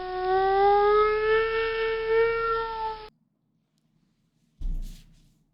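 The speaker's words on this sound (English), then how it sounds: "Also, tornado sirens." An American tornado warning siren sounds a loud, steady, slightly wavering tone for about three seconds, then cuts off into silence before a short, low thump.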